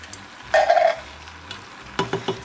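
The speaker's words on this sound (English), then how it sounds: "It's hard to stir with that." A spoon scrapes and stirs through a pot of soup made with kidney beans, black beans, chickpeas and diced tomatoes, close up, with a longer scraping stroke followed by three quick knocks against the pot.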